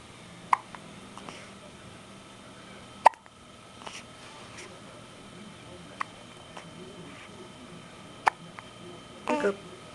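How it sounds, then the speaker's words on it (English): A young child hiccups several times, with small, sharp hiccups spaced irregularly across a quiet room. An adult speaks softly in the background. "You still have the hiccups?"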